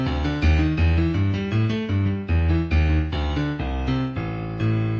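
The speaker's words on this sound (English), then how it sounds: "But the broken octave scale sounds like this." A broken octave scale played on piano, alternating low and high notes in a quick, even rhythm that climbs and falls, loud and close with no talking.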